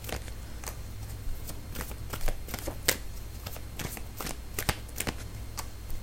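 Tarot cards riffled and pulled from the deck during a reading, a run of soft papery flicks and taps at close range, fairly quiet against a low steady background hum.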